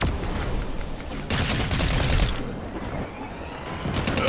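Gunfire in an online shooter cash-cup match rattles out in dense, rapid bursts, loud and close, with a sharp surge of volleys partway through and steady crackling shots continuing to the end.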